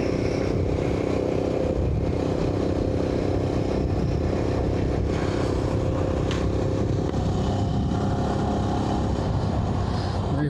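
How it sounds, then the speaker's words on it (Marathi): Adventure motorcycle cruising in 5th gear on an open road, its engine drone steady and loud from the rider's position, with wind rush running continuously throughout. "5th गियर पे गाड़ी अच्छी खींच रही है और क्या चाहिए।"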